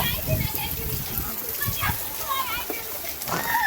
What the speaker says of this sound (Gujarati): ચોમાના સિઝનમાં પહેલા વરસાદ થઈ ગયો ચાલુ